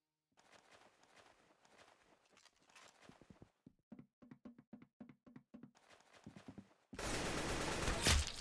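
In the shooter game The Arsenal, a quiet patter of sounds gives way to a run of regular sharp shots in a rhythmic series. A loud, dense burst of gunfire then erupts near the end.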